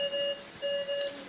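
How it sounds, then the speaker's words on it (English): A pulse oximeter alarm sounds in a hospital delivery room: two sustained electronic beeps separated by a short gap, moderately loud and close. "The alarm goes off."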